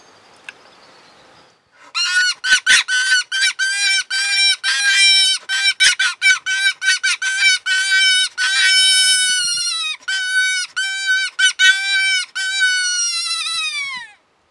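A hand-blown predator call for foxes squeals and wails in rapid, choppy bursts, high-pitched and raspy, continuing steadily for many seconds with no talking.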